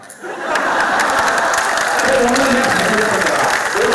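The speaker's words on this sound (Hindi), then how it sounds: "सारे सभी ने मिलकर तालियां बजाई" An audience at a poetry tribute event for martyrs bursts into loud clapping that swells quickly and stays strong, with a few voices and laughter mixed in.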